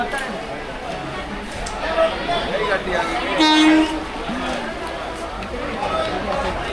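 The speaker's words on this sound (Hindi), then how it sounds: "चलो फाइनली ट्रेन तो आई, लेकिन इतनी स्लो आ रही है ना" A train slowly arriving at a station in India rumbles on steadily beneath crowd chatter and voices, with a brief tonal horn-like note in the middle.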